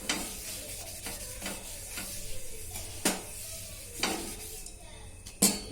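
Oil being wiped across a hot cast-iron griddle for semolina rava dosa, with a soft, steady hiss and sizzle broken by several sharp scraping and clinking strokes, close by and with no talking.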